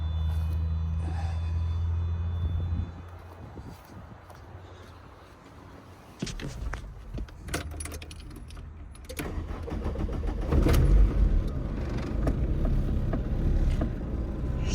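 A Mk1 Volkswagen Caddy pickup with a swapped ABA engine runs at idle, a steady low rumble with some clinks and handling noises layered over it, growing louder and rougher toward the end.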